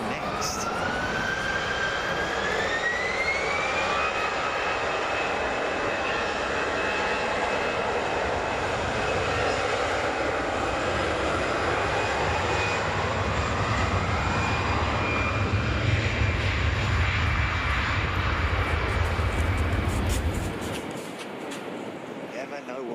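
A Middle East Airlines Airbus A321 jet arrives at Frankfurt Airport with a loud, sustained engine roar and rising whine that sweeps past and then fades sharply at the end, heard from the ground.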